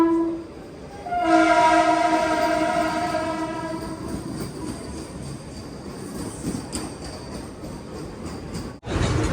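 A Mumbai local train pulls into a station platform, sounding a long loud horn before a rumbling, clattering approach of wheels and cars that continues close by.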